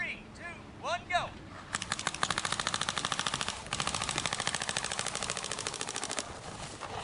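Rapid bursts of gunfire during a run-and-shoot drill, nearly continuous shots in a fast rhythm across two long strings, loud and close, with a brief whistle-like sound before them.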